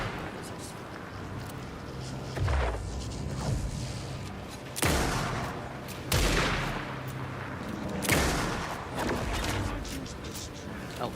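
Gunfire in the horror video game Alan Wake 2, several sharp bursting shots at irregular intervals over a low rumbling game ambience, moderately loud.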